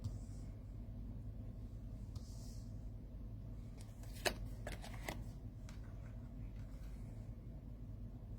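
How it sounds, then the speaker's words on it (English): Tarot cards being laid out on a surface, with a few soft flicks and slaps of cards over a low background rumble, faint and close, with no talking. "Let's look at a couple cards laid out."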